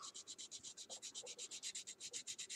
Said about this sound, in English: you sand it until the Sharpie's gone